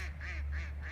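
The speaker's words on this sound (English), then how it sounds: "Get some ducks. Looks like they're heading this way." Ducks on a fishing pond give a short run of three nasal quacks in quick, even rhythm, fairly faint and at some distance, over a low steady rumble.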